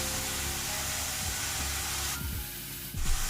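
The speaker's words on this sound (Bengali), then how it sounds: "কাঁচা লঙ্কা দিয়ে দিলাম। এবার হাই ফ্লেমে একটু ভালো করে ভাজবো।" Chicken with green chillies frying over a high flame on a gas stove, a steady, fairly loud broadband hiss that holds throughout with small crackles near the end.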